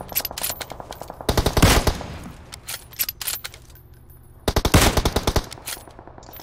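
Automatic gunfire in PUBG Mobile comes as two loud, close bursts of rapid shots separated by quieter, scattered single shots and clicks, with no talking.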